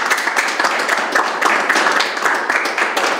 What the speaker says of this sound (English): we will give her a round of applause